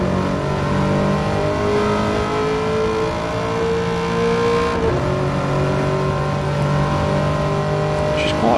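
A 2009 Corvette C6 ZR1 on a fast lap at Watkins Glen in Gran Turismo 7, its engine droning and revving steadily and loudly throughout, with pitch rising and briefly dipping at a gear change.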